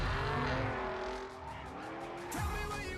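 Cars racing in Forza Horizon through Rio de Janeiro, with loud engines roaring, a pitch sweep as one passes, and tyres squealing and skidding in a continuous burst with no talk.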